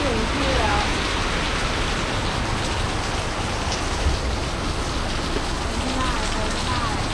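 Heavy rain pours down at a night street food market in Penang in a dense, steady hiss, loud and unbroken, with faint voices mixed underneath.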